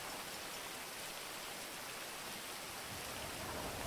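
Steady rain falls in GTA 5 with the LSPDFR police mod, a constant dense hiss of drops on the ground, even and fairly soft throughout, with no voices.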